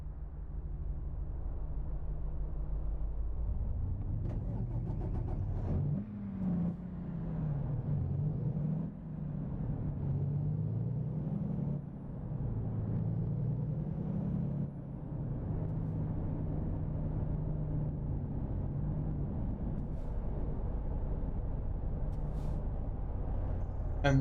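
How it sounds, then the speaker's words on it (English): A video game vehicle's engine hums at a low, steady idle, then rises and falls through a few revs before settling into a constant drone, with no talking over it. "Put my engine off and save fuel."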